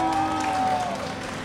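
A crowd at a jousting match applauds and cheers in a steady, dense wash of clapping and voices, loud and sustained, fading slightly near the end.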